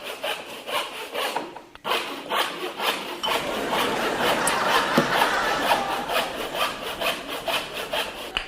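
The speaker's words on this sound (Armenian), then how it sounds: "իմ գործընկերը սղոցում է երկաթը" A knife, sold as a magic knife, saws through a piece of iron in close, steady back-and-forth strokes, with a brief pause near the start before the rasping rhythm resumes.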